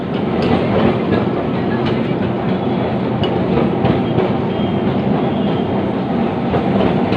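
A Kolkata tram rolling on its rails, loud continuous rumble with rhythmic clicks and light squeals throughout, heard from on board, with no clear talk.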